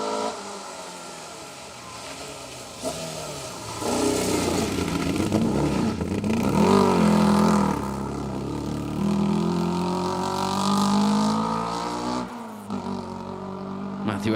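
A two-wheel-drive rally car on a Malcolm Wilson Rally 2024 stage with a rough, tractor-like engine that needs an exhaust. It revs and accelerates loudly, rising and falling through the gears with a clear drop near the end, under commentary.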